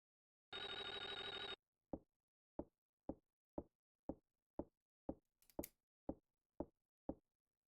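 An electronic telephone in the Clocktower video game gives one long buzzing ring, then a steady series of about ten short, evenly spaced clicks or knocks, isolated and fairly quiet.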